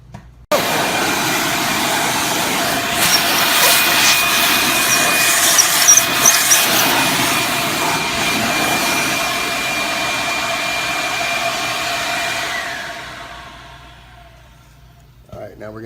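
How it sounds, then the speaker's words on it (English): A CDC Larue Pulse-Bac shop vacuum clears dust off a filter plate with a loud, steady rushing whoosh that runs continuously for about twelve seconds, then winds down and fades. "once we vacuum this off of here"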